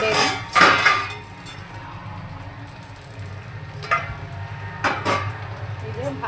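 A utensil stirs potatoes and kohlrabi frying in a pan, giving a few sharp metallic clanks and scrapes against the pan over a low, steady background.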